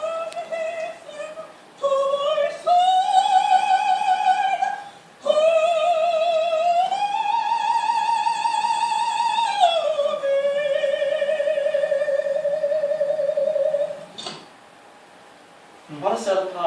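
Recording of an opera soprano singing at age 80, a strong sustained voice holding long vibrato notes that rise and fall across several phrases, heard alone with brief pauses between lines.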